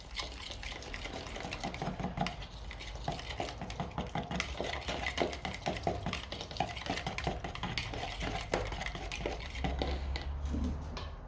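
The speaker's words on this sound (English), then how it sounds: "We add the powder to it and we just stir that through." Spoon stirring powder through liquid in a pot until dissolved, while making Maltese fresh gbejniet cheese; a steady, busy run of scraping and clinking strokes fills the whole stretch at moderate level, with no one talking.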